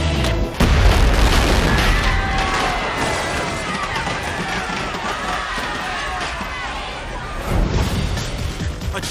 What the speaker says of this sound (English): A chain of firecrackers ignites the statue, but 4 seconds into the burn, it explodes.